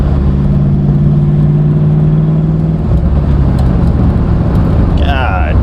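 Lincoln Aviator swapped with a Mustang GT engine accelerating hard, a loud, steady engine drone with a rising whir that fills the clip, followed by a voice speaking at the end.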